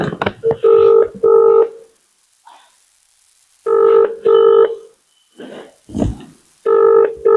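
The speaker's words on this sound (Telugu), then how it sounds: "ఒకసారి ఎంఈఓ ఫోన్ చేద్దాం లాస్ట్ కాల్" Electronic phone tones sound in short repeated pairs, a dialing-style pattern followed by ringback beeps, separated by moments of quiet and faint background noise.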